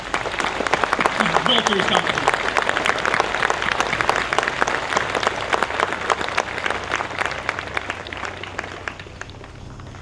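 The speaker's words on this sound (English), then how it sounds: "Please join me again in applauding our nation's contributions." A school audience applauds steadily throughout an outdoor flag-raising ceremony, a dense wash of clapping that fades a little toward the end, with a speaker's amplified voice briefly heard over it.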